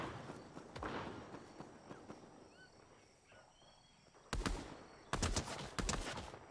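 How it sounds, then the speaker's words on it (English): Video game shootout with faint scattered distant shots early on, then two loud bursts of rapid gunfire near the end, heavy and close, with no talk over them. "Oh my god, they're shooting in all directions."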